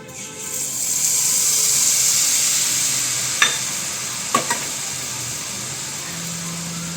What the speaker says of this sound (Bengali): তেলের মধ্যে আমরা লাল বোঁদেগুলোকেও ঠিক সেমভাবেই ভেজে নেব